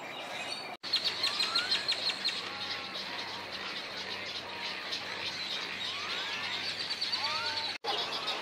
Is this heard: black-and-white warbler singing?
yes